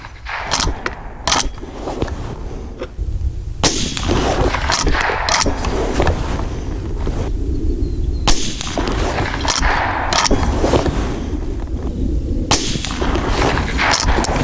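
Rifle shots from a Henry Frontier lever-action rifle in .22 WMR, fired at targets: several sharp, loud reports spaced a few seconds apart, with no talking between them.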